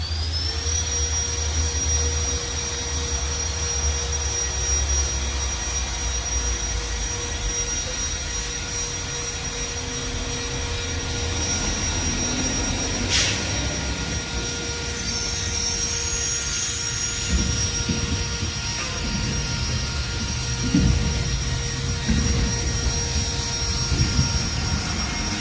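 A Grebilux cordless leaf blower runs on turbo, a steady loud whirring jet whine with a high tonal hum that holds near and constant throughout, with no talking.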